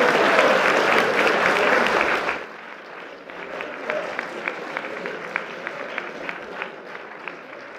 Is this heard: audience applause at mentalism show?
yes